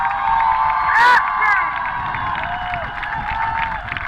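A crowd at Sardinia's first Pride event cheers, whoops and applauds in a loud, sustained swell, with a brief shrill shout rising above the mass of voices near the middle.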